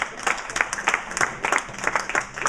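Audience applause at a high school, with a steady patter of clapping throughout, moderately loud and sustained.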